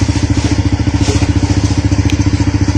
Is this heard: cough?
no